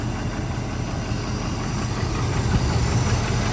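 A 1988 Jeep Grand Wagoneer engine runs at a steady idle, a continuous low rumble with a faint vibration throughout and no voices.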